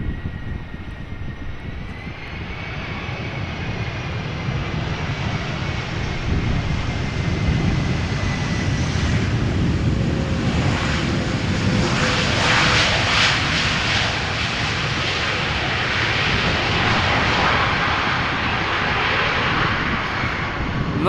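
A Maersk Cargo A330 jet touching down in crosswind at Amsterdam Schiphol Airport: a loud, sustained engine roar and rushing air that swells and holds steadily for about twenty seconds, with no voices.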